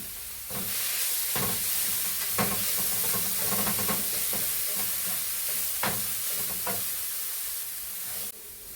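Coconut, garlic and shallot paste with cumin, green chilli and turmeric sizzles steadily in oil with popped mustard seeds, a continuous close frying hiss with occasional stirring scrapes and pops.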